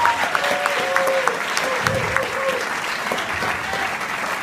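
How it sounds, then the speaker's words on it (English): An audience claps steadily for a performer, a dense, even round of applause with scattered sharper claps standing out, loud and close, with no voices over it. "Let's give her another round of applause."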